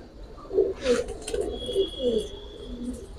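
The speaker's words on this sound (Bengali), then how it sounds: "এইটা আমার এক জোড়া ঘরের বাচ্চা সাফচিলা কবুতর" A young home-bred pair of Safchila pigeons with clipped tails coo close by, giving a run of soft, throaty, repeated coos with a brief faint voice underneath.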